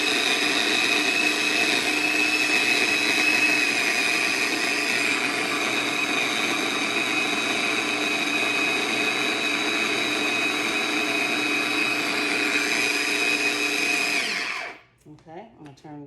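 A small food processor chops vegetables very fine for Cajun shrimp, crab and grits, its motor whirring loud and steady for about fourteen seconds before cutting off, followed by faint kitchen clatter.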